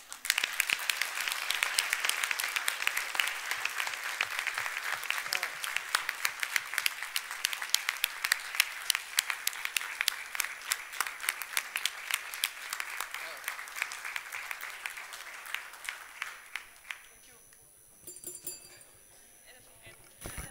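Conference attendees give a long round of applause at a closing session, many hands clapping steadily for about seventeen seconds before fading, with brief talk afterward.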